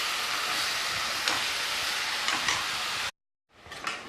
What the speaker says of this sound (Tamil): குடலை போட்டு வதக்கிறேங்க